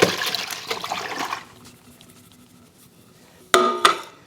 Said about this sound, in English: It's just right in the sink, the bowl under to capture the juice.